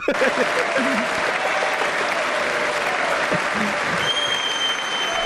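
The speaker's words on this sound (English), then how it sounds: "Imagine the guy next to you just fucking clapping in your face" Sustained, loud crowd applause at a Trump address fills the whole stretch as a dense wash of many hands clapping, with a faint whistle tone entering near the end.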